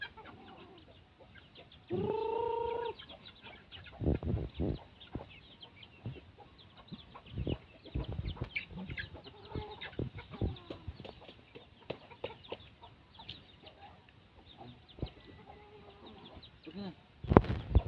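Small chickens cluck softly and intermittently in a morning yard, with one rooster crow early on and faint voices in the background.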